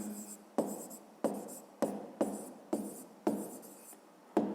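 A pen writing an answer by hand in a fifth-grade maths exercise: soft, close scratching strokes on paper in a steady rhythm, about eight of them, each starting with a small tap.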